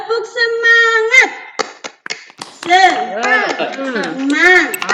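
Children in a classroom join a teacher in a rhythmic spirit clap, quick bursts of claps punctuating chanted voices in a patterned beat, near and lively.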